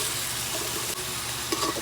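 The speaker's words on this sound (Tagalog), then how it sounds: "So, haluin ulit natin." Chicken adobo with oyster sauce being stirred in a pan, a steady close sizzle of frying with faint scraping throughout, no talk.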